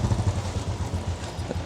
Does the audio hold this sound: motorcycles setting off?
yes